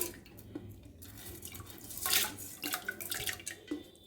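Water poured into a cooking pot with washed moong beans and toor dal: faint, irregular splashing and dripping, alone and close.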